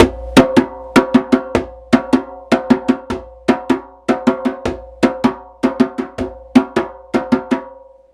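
Hand drum played fast in a repeating one, one-two, one-two-three pattern, with sharp ringing slaps and tones in steady clustered groups, close and loud with no talking.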